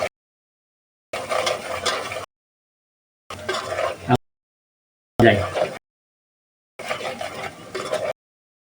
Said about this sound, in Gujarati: મરચું નાખ્યું છે એટલે આપણે મરચું એડ કરીશું અને હલાવીશું